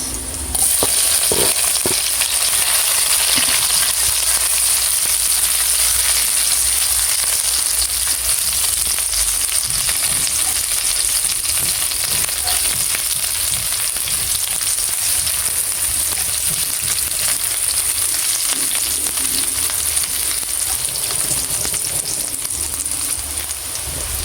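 Sliced onion (sibuyas) sizzling and frying in a pan as home cooking, a loud, steady, close hiss that carries on unbroken with no talking over it.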